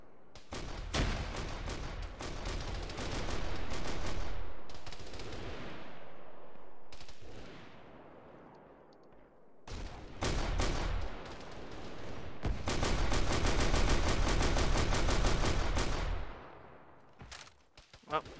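Heavy video-game bombardment and gunfire from a military shooter: sustained bursts of rapid shots and booming impacts, loud and close, coming in long dense waves with short lulls between them and no speech.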